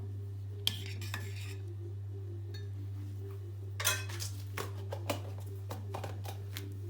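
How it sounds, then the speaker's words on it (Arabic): A spoon stirs Turkish muhallebi pudding in a pot, giving soft scraping strokes and sharp metallic clinks against the pan over a steady low hum, with no voices. "صافي نستمر في التحريك"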